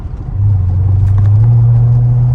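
A 2006 Mercedes SL500 R230 exhaust, with resonators and catalytic converters fitted, holds a steady, deep, loud idle rumble that settles into an even low drone after a brief rise.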